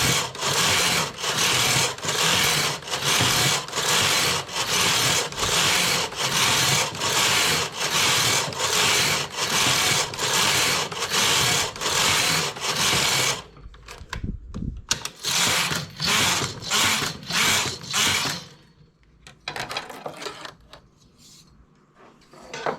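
A knitting machine working a double rib band, its carriage sliding back and forth in loud, rhythmic rasping passes, steady at first, then broken by short pauses and quieter strokes toward the end.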